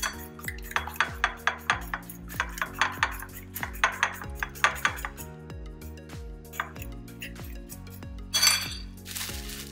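Eggs being whisked with salt and coarsely ground black pepper, a utensil clinking rhythmically against a bowl in quick repeated strokes, close and fairly loud, with a brief louder clatter near the end.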